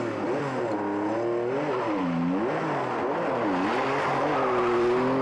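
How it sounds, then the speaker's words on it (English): A Porsche rally car engine revs and changes pitch steadily through a rally stage, the note rising and falling loudly and continuously as the car gets going again after being stuck. "He gets his Porsche going"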